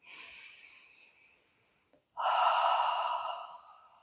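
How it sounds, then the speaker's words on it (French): Slow, deep breathing in and out through the mouth, heard close and clear: a long airy breath, a short pause, then a louder, fuller rushing breath, with no speech. "Je vais prendre 3 grandes respirations. J'inspire et j'expire par la bouche."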